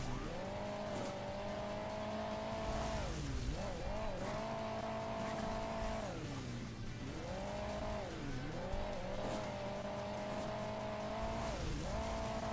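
A bus revving and driving over rough terrain in the Hill Climb Racing 2 mobile game, with a steady droning engine whose pitch climbs and drops repeatedly over continuous loud game noise.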